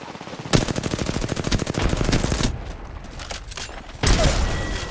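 Rapid automatic gunfire from a video game, a loud sustained burst of closely spaced shots followed by a short lull and then another heavy blast-like burst.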